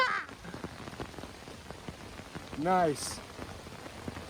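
A heavy rain downpour at a campsite makes a dense, constant patter with scattered louder drops, while a person briefly speaks and a short tonal call rises and falls midway.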